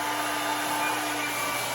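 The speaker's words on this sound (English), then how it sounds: "So don't move the hair dryer there, Avery." A hair dryer blows hot air into a balloon, a steady, loud, continuous whoosh with a constant motor hum that holds without a break.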